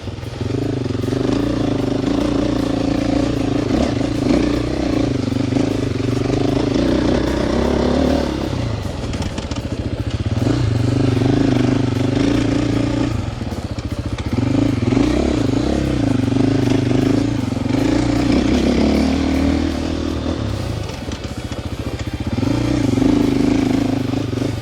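A 2026 KTM 450 XCF-W dirt bike ridden offroad in Texas, its engine droning steadily and rising and falling in waves as the rider works the throttle, loud and close throughout.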